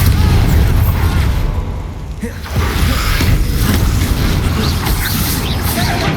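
A Bombarda spell explosion in Hogwarts Legacy, a loud sustained booming roar with crashing debris that dips briefly, then surges again and rumbles on steadily.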